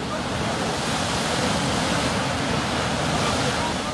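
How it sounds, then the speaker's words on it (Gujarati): Huge fountain of water gushing up from a borewell, a loud, dense, unbroken roar of rushing, spraying water heard up close, steady from start to finish. "પેટાળમાંથી પાણીનો જબ્બર ફુવારો"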